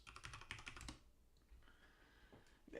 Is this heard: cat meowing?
no